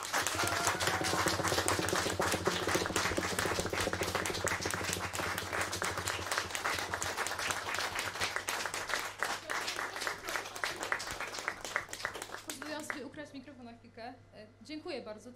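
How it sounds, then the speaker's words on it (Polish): Audience applause at a folk music award gala as the folk album of the year is announced, dense steady clapping filling the room for about twelve seconds before fading as a voice begins. "Wielkie brawa."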